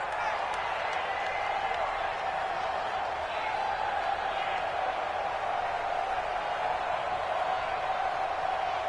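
Stadium crowd noise in a PS4 American football video game: a constant dense roar of a home crowd, loud and unbroken throughout, with a commentator's voice talking over it.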